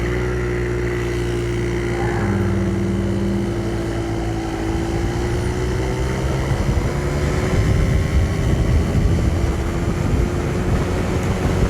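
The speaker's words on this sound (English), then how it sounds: "as this bike warms up, the clutch engages at a lower and lower point, which kind of makes the motor bog down a little bit." A 1980 Honda Express NC50 moped's small two-stroke engine drones loudly and steadily while riding, with a rising whine as it revs and constant road and wind rumble underneath.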